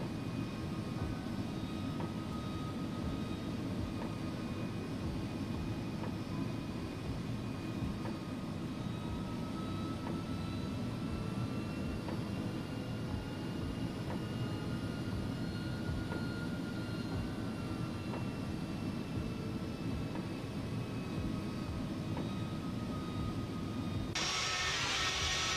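Engine of an Airbus A300 freighter in the X-Plane 11 flight simulator, a steady, moderately loud drone that holds unchanged for the whole stretch with no voices.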